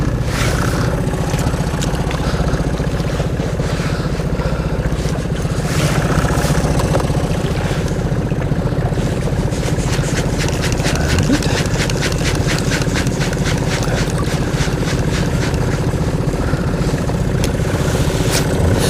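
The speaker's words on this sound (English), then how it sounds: "Actually put the boat in gear and slow down" A boat engine running in gear at low speed to slow the drift while fishing, a steady mid-pitched drone with rhythmic ticking, close and continuous throughout.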